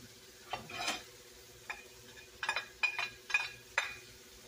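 Hamburger meat sizzles quietly in a pan while a utensil stirs and scrapes it in short, separate bursts with occasional light clinks against the metal.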